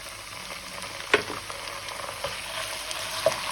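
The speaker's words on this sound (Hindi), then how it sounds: "इसे 30 सेकंड तक मैं इसे फ्राई करूंगी ताकि इसका कच्चापन खत्म हो जाए।" Garlic ginger paste frying with onions in a hot pan, a steady soft sizzle with an occasional louder crackle and stir, no talking.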